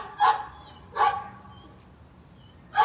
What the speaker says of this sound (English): that's my neighbor's dog